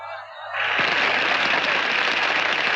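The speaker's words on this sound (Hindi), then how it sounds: "तालियां बंद, तालियां बंद।" Applause from a crowd at a meeting in an old Hindi film scene bursts in after a brief tonal lead-in, then holds as a loud, dense, continuous clatter of many clapping hands with no talk over it.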